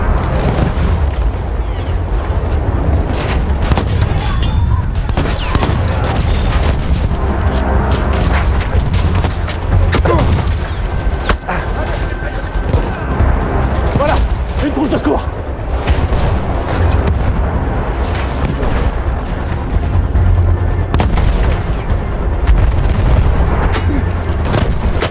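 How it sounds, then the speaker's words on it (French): Rapid machine gun fire in the Battlefield 1 video game: dense, continuous bursts of loud shots and booms layered over one another, close and relentless for the whole stretch. "Attention, mitrailleuse."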